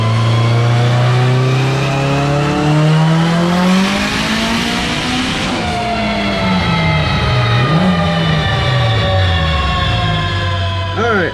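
A 1G Mitsubishi Eagle Talon DSM with a 4G63 turbo engine and Precision 6266 Gen 2 turbo revs hard on a dyno on pump gas, its loud, sustained engine note sweeping upward and wavering as the pull builds.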